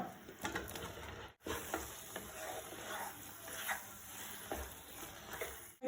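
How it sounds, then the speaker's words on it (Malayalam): Soya chunks tossed into masala in a pan give a moderate sizzle with stirring scrapes and a few soft clinks, fairly close and without talk. "ഇത് നമ്മുടെ സോയ അതിലേക്ക് ഇട്ട് കൊടുക്കുക കേട്ടോ."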